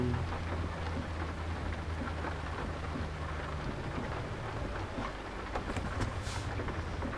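Steady, heavy rain pours down on a Mercedes car in a dense, constant hiss, with a low rumble underneath and no voices.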